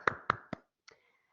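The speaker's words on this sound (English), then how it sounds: "I have to clap for you again" Three quick hand claps ring out close and sharp at an even pace, followed by one softer tap and then quiet.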